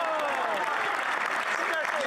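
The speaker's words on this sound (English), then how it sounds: "Give him a round of applause." Applause fills the House of Commons chamber, a steady dense clatter of clapping, with a voice speaking over it.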